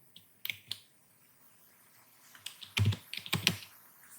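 Keys tapped on a computer keyboard while filling in an online form, a few isolated clicks and then a quick close-up burst of typing.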